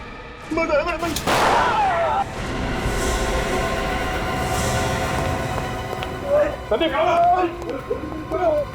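A single sharp gunshot cracks out early, followed by a rumbling hum and agitated voices talking.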